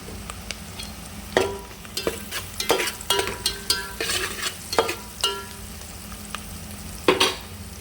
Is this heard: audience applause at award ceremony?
no